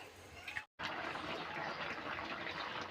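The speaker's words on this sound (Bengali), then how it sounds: "সামান্য একটু কেওড়ার জল যে রোস্টের একটা সুন্দর ফ্লেভার আসে সেজন্য কেওড়া জলটা দিয়ে দিলাম" Kewra water poured into a simmering winter-vegetable roast, a steady broad wash of liquid trickling and sizzling that runs continuously after a brief gap, close and moderately loud.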